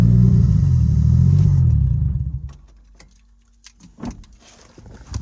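A 1JZ engine swapped into a Nissan S14 idles with a loud, deep, steady rumble, then is switched off around two seconds in, leaving near silence with a few faint clicks and small knocks.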